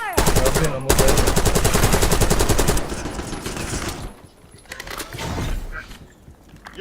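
Rapid automatic gunfire in the video game Warzone, loud dense bursts for about three seconds, then scattered shots and trailing clatter fading lower toward the end.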